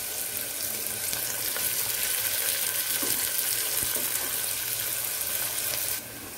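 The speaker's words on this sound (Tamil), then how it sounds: "வெங்காயத்தை போடலாம். வெங்காயம் நல்லா வதங்கட்டும்." Sliced onions sauté in hot oil in a pan for kodo millet vegetable biryani, giving a steady, continuous sizzle with faint clinks, ending abruptly near the close.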